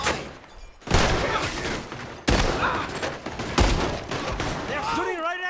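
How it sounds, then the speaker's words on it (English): Gunfire in a Red Dead Redemption 2 gunfight comes in loud repeated volleys, several bursts of shots crashing in close succession, with a brief quiet gap at the start and a trailing ringing tone at the end. "They're shooting right at me!"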